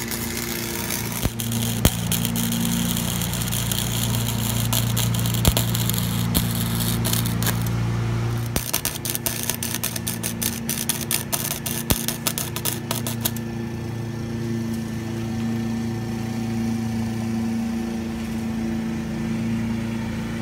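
A thin piece of metal held in a vise is welded in a driveway, giving a steady, dense electric crackle and buzz for about thirteen seconds before the sound shifts to a quieter hum.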